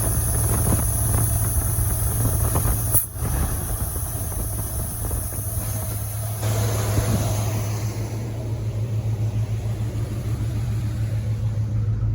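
A Buick-powered Chevrolet C20 Suburban with a Quadrajet carburetor idles steadily at a slightly lowered speed after the carburetor adjustment, a continuous close engine rumble with one brief dip partway through and no talking.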